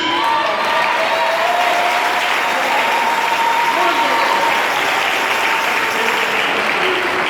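A church congregation applauds loudly and continuously for several seconds, producing a dense wash of clapping with a few voices mixed in.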